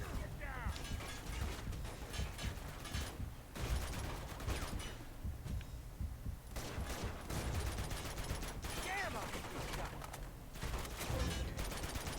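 Rapid bursts of video game gunfire from Uncharted 2: Among Thieves, dense fusillades and machine-gun rattles continuing with brief lulls, heard alongside game sounds and voices.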